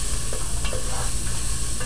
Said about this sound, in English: I'll give that just a quick stir